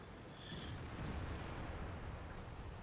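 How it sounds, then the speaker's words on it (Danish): Rumbling booms and bursts of cannon fire from a tank video game battle in which an SU-122 tank destroyer takes a hit, a dense, continuous low roar with explosive swells throughout. "Tank Destroyer SU 122, som får et skud og bliver rammet"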